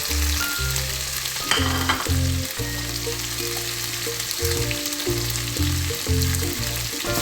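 Meat and carrots for a noodle dish fry in a pan, a steady close sizzle with low rumbling and scraping bursts as the food is stirred, with no talking.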